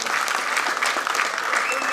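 A crowd at a film press meet claps in a dense, sustained burst of applause lasting a couple of seconds, fairly close and even in loudness.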